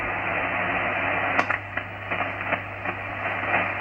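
An HF amateur radio transmission received on an AOR AR5001D plays as a steady, strong band of receiver audio with faint voice-like modulation and a constant hum beneath, broken by a few brief bursts.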